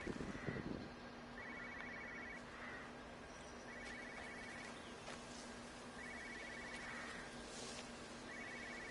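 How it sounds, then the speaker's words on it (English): A telephone rings faintly in the distance in the game Everybody's Gone to The Rapture, short trilling bursts repeating about every two and a half seconds over a hissy, quiet ambient backdrop. "I keep hearing a phone."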